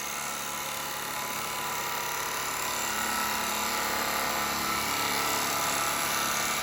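A woodturning chisel cuts a natural-edge cherry almond bowl spinning on a lathe, giving a steady, continuous hiss and whir that stays loud and even throughout with no talking.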